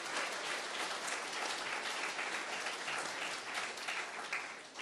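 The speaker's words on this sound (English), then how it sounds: "if you want to give a round of applause for that" Sustained applause from an audience at a public event on homelessness supports in Lethbridge, a dense, steady wash of clapping holding at an even level throughout before easing slightly at the end.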